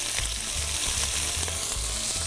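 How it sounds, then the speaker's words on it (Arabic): Onions sautéing in a little oil in a pan for chicken fajita-style breast with Mexican vegetables, a steady close sizzle and crackle throughout with a few stirring scrapes, no talk. "ونشوح البصل مع شوية من الزيت"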